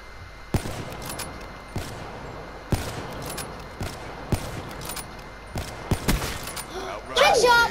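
Gunshots ring out in Call of Duty Black Ops III, several sharp separate cracks spaced irregularly over a low game backdrop, with a person talking near the end.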